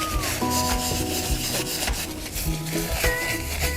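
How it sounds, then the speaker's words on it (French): A paper towel wipes around the rim of a roof skylight, giving close, continuous rubbing and scuffing strokes mixed with faint background tones. "je vais nettoyer tout le pourtour avec un sopalin"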